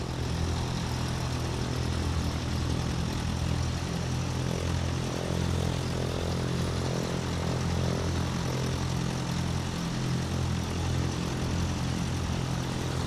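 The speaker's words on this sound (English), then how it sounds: "We're now taxiing to the takeoff position, and we're gonna take off soon." Propeller engine of a DA40 light aircraft taxiing in Microsoft Flight Simulator 2024, a steady loud droning hum with a constant low throb and no change in pitch throughout.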